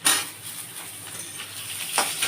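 Pointed gourd pieces tumble into a hot pan for Bengali chapor ghonto, opening with a quick clatter and then a soft, steady sizzling hiss, close by.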